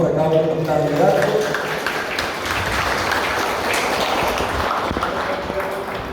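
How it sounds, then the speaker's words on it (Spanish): A crowd at a political rally presenting candidates for senator and deputies applauds in a steady, sustained wash of clapping, with a voice speaking over it at the start. "Fuertes los aplausos para cada uno de los candidatos"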